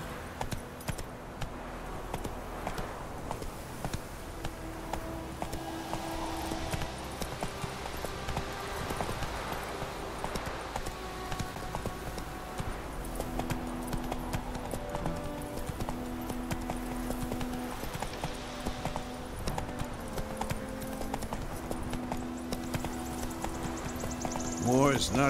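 Rhythmic hoof clip-clop of a horse moving along in the Witcher 3 video game, steady and moderately close under game music, with voices speaking over it.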